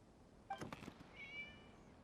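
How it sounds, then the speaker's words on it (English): A single short cat meow in the game Genshin Impact, followed by a thin, drawn-out mewing tone, faint and alone against quiet background hiss. "It was just a cat."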